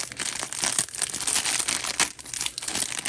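Taped fashion doll packaging being opened, a steady, loud stretch of close plastic crinkling and crushing with tearing scrapes, continuous and alone.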